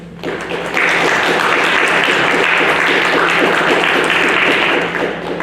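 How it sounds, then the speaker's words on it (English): An audience at a lecture on Shi'i law applauds to welcome a visiting professor, a loud sustained roar of many hands clapping that swells quickly and holds strong before easing slightly at the end. "So if we can all welcome him with a round of applause."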